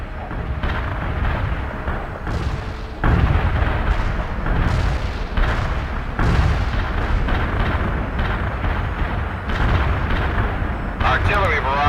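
Artillery barrage in the World in Conflict war game: a dense run of heavy booming blasts and rumbling impacts that roll on continuously for the whole stretch, loud and close, with scattered sharper bursts layered over the din.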